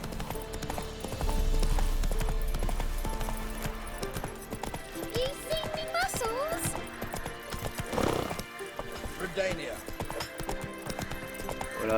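Horse hooves clip-clop steadily in The Witcher 3 over a game soundscape with music. Someone speaks briefly over the sound.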